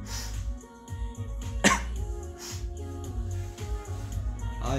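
A sharp cough bursts out once near the middle, over a low background hum with faint muffled sounds around it.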